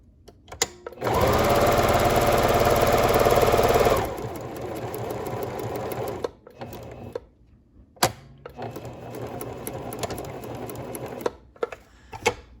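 A Pfaff sewing machine runs at steady high speed for about three seconds while stitching a buttonhole, then slows into shorter, uneven bursts of stitching with brief pauses and clicks between them.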